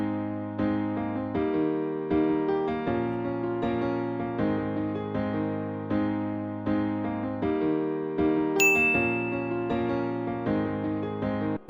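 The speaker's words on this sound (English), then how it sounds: "I'll play you guys the piano first, and we'll hear what we're working with" A piano plays a steady, evenly paced melody with chords, each note struck clearly and ringing briefly, with no voices.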